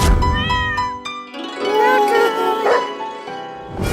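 A cat meows loudly several times up close, with drawn-out, wavering cries and a short gap between calls.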